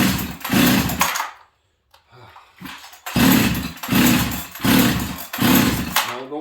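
A Husqvarna 385 chainsaw with a suspected air leak revs in loud, close bursts of engine roar, with a short quiet gap before several more throttle blips in quick succession.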